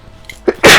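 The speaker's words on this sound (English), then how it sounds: "I'm about to sneeze." A single person sneezes up close: a brief sharp intake of breath, then a loud explosive burst of breath that ends the moment.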